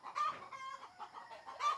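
Chickens clucking softly in short, repeated calls, fairly close, with no other sounds around them.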